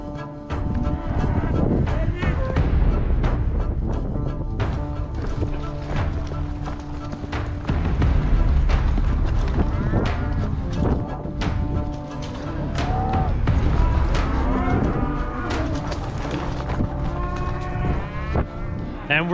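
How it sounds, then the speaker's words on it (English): A herd of cattle on a cattle drive along a road moos loudly and often over a steady rumble of hooves and movement, with calls overlapping as the animals pass close by. "Here comes the cows."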